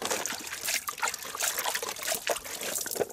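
Water trickling while lime is diluted: a continuous light, bubbly dribble of liquid with small splashes, moderately close and steady throughout, with no speech over it.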